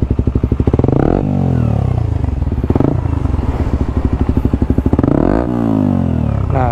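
Suzuki GSX-R150 fitted with a Prospeed Black CNC exhaust revving hard to high RPM, with loud, close, repeated throttle blips that rise and fall, crackling and popping on the overrun.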